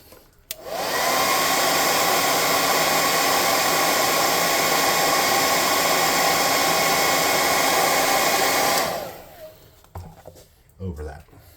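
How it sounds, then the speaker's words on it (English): Hair dryer blowing steadily on fresh red paint on a model hover car for a tabletop game, a loud continuous whoosh lasting about eight seconds before cutting off, followed by faint handling noises. "I'm going to blow dry that"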